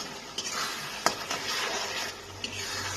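Bhetki fish head and bones sautéing with tomato in a pan give a steady, close sizzle, broken by a few sharp scrapes and clicks of stirring, with no talking.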